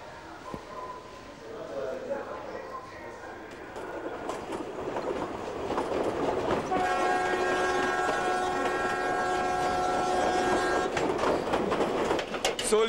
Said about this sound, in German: Knapp 8 Stunden braucht unser Zug von Cusco aus in Richtung Puno.